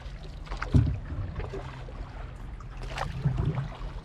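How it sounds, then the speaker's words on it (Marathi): Oars dip and splash as a small fishing boat glides over water near Mumbai, two soft strokes against a low rush of wind and lapping water. "आपली होडी आहे ना ती जात आहे"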